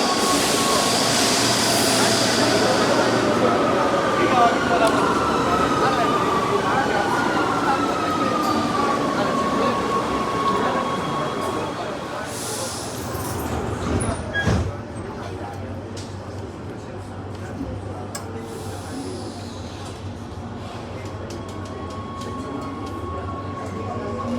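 A Rome Metro Line B subway train rumbles steadily with screeching wheel squeals and a sharp clank partway through, loud and enclosed, while a voice speaks over the noise.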